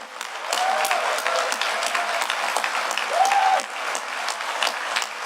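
Audience applause fills a hall at the DEF CON 20 hacking conference, a steady dense clatter of many hands clapping across the room, with a brief swell near the end before it eases back slightly.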